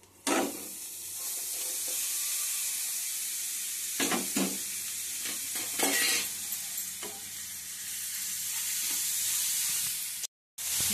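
Grated beetroot fries and sizzles steadily in a pan, with broadband hiss throughout and occasional scrapes and stirring clatter, ending in a brief cut of silence.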